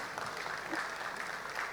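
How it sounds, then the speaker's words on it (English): Audience applause at a digital payments conference, a steady spread of many hands clapping, moderately distant and soft, with no voices over it. "You can clap if you want to, it's okay."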